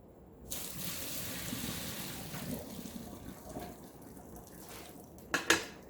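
Cooked sweet potato noodles and their water pour into a strainer over a kitchen sink, making a steady, soft rushing gush that fades into trickling, with two sharp clinks near the end.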